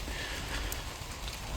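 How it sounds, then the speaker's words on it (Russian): Light rain patters steadily on an umbrella held overhead during an outdoor walk, a constant soft hiss of drops close by with no voices. "Прогулка сегодня дождливая. Иду под зонтиком. Ну ничего, дождь не сильный."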